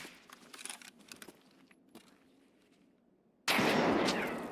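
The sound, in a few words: grenade thrown in video game Escape from Tarkov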